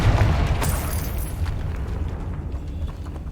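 A Confringo fire spell in Hogwarts Legacy bursts with a loud, deep boom at the start, then a rumbling, crackling tail slowly dies away, with no talking.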